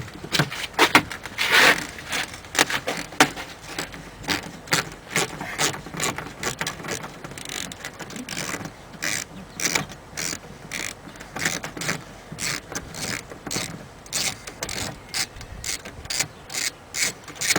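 Socket ratchet loosening screws on the door of a 1995–1999 GM truck or SUV while replacing a door lock actuator; a long run of rapid, close metallic pawl clicks in quick bursts, with no talking.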